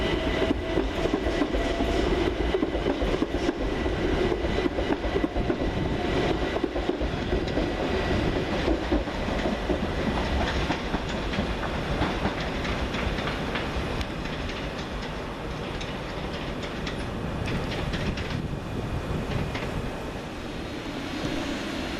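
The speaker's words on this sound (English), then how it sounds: "Next to depart 377116 and 377451 with the 1324 Southern Railway service to Littlehampton." Southern Railway class 377 electric multiple units departing a station, a steady loud rolling rumble with faint wheel clicks along the rails, continuous for the whole span with no speech.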